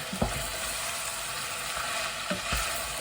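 Worcestershire sauce stirred into a hot pan with black pepper, a steady sizzle and frying hiss with a few brief scraping knocks of the utensil against the pan.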